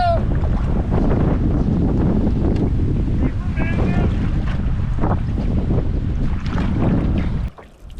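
Strong wind buffets the microphone in a steady, loud roar, with water sloshing against a solo canoe and brief voices underneath.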